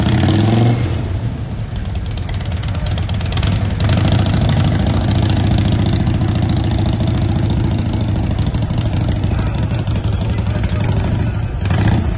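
Antique motorcycle engine idling loudly and steadily up close at the Sturgis rally, a continuous throbbing rumble with a voice talking over it.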